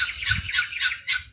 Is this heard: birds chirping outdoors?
yes